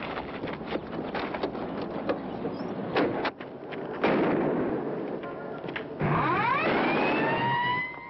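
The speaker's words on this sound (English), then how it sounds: "Gunfire." Gunfire in a film scene: a burst of sharp, loud shots up to around three seconds, a few more isolated cracks, then sustained noisy clatter and whistling, sweeping tones toward the end.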